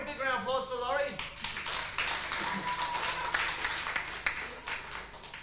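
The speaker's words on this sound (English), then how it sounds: "Big round of applause for Laurie" Theatre audience at a 1995 live comedy show at the RCH gives a volunteer named Laurie a loud, sustained round of applause and clapping, with voices and cheers mixed into the dense crowd noise.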